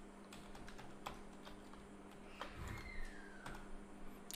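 Typing on a computer keyboard while working in Figma, a quick run of soft, irregular key clicks that stay close and fairly quiet, with no talking over them.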